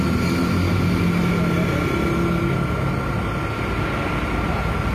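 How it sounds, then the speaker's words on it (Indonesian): A motorcycle engine idling just after a workshop service, a steady low hum with a constant tonal drone running evenly throughout, fairly close and loud, with shop background noise and no voices. "motor dinyalain pas step terakhir dari servisnya"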